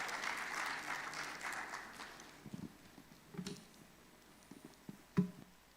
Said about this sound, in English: Please, a round of applause for him as he joins me.